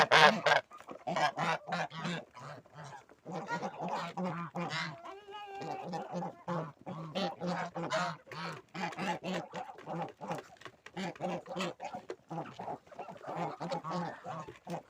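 A flock of farmyard geese at evening feeding honks constantly and loudly, overlapping calls in a busy, steady chorus nearby.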